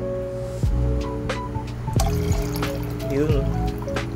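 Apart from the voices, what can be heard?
pouring dechlorinated stock water for baby brine shrimp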